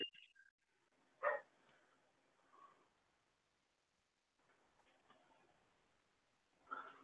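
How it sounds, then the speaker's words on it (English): Several dogs barking in the background, a few faint distant yelps spaced out over quiet stretches, muffled and low in level. "Can you hear my dogs going insane?"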